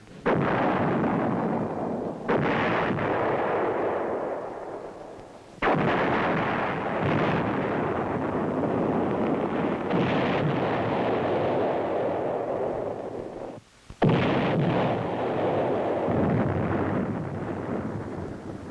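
Artillery fires in a series of heavy booming blasts, each roaring loud and long before the next round, with several deep rumbling discharges following one another across the span.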